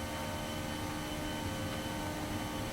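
Simulated airliner engines at takeoff power in X-Plane, a steady, dense roar with a faint tonal whine, unchanging and continuous throughout.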